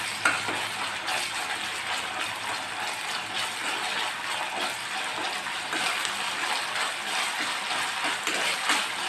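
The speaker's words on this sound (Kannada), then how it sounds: "ಹಸೆ ವಾಸನೆ ಹೋಗೋವರೆಗೂ ಹುರ್ಕೊಳ್ಳೋಣ" Finely chopped onion with ginger garlic paste fries in a pan for a chicken kofta curry, giving a steady, even sizzle with occasional stirring scrapes, moderately loud and with no talk.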